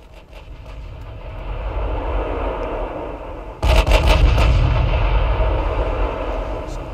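Battleship main guns firing in the naval warfare game Ultimate Admiral Dreadnoughts, a ten-gun ship with double turrets: a loud, deep boom of a salvo crashes in midway, then rumbles on over a steady low roar of battle.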